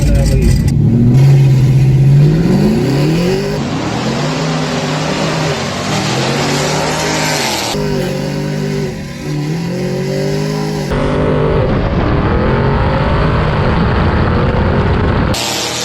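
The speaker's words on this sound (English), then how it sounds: "this time for my last run, I'm running with a 2015 Camaro 1LE" A 2015 Chevrolet Camaro 1LE launches on a drag strip at Beech Bend Raceway, its engine revving loud and close and then pulling hard through rising gear changes, with a brief dip between shifts.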